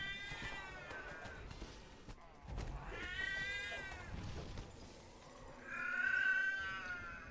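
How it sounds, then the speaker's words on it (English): A cat meowing up close: three drawn-out, plaintive meows spaced a couple of seconds apart, each rising and falling, the last one loudest, with soft background noise between them. "Why are you meowing?"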